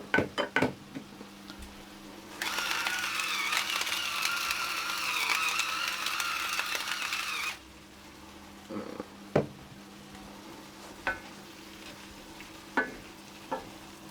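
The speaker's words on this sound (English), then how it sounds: "Give it a good stir." Ratatouille in a pot is stirred in one burst of scraping and sizzling lasting several seconds, followed by scattered light clinks and knocks of utensils against cookware.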